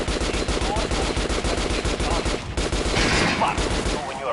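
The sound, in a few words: gunshots at training dummies in the video game Metro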